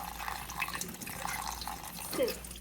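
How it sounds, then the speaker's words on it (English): Tap water runs under a strainer while sand is rinsed from coquina clam meat, a steady faint wash with a few small splashes and drips near the end. "we have running water under there to make sure that all the sand is washed out of it"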